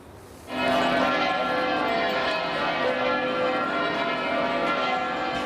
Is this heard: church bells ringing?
yes